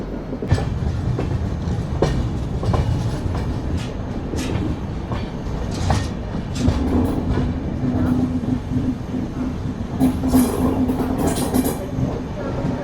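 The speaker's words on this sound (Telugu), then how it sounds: "సో ఆ ట్రైన్ దుర్గు నుంచి పూరి వెళ్ళే ట్రైను" A Durg to Puri passenger train runs along the rails with a continuous rumbling roar and rhythmic clickety-clack of wheels over joints, steady and close throughout.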